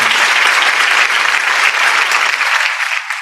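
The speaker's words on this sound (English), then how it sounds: "please give a round of applause to Professor Maija Aksela for this interesti" An audience at an international academic seminar applauds after a session, loud dense clapping that carries on steadily and starts to thin out toward the end, with no talk over it.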